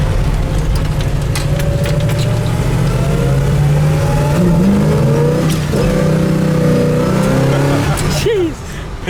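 A 1965 Chevelle's engine revs up and pulls hard, its pitch climbing through gears, loud and close, with a shift near the end.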